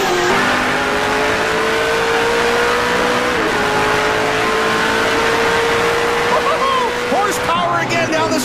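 Race cars roar down the straightaway at the Napa Auto Parts 100 NASCAR event, a steady loud engine drone rising in pitch as they accelerate, with tire noise near the end and a commentator talking over it.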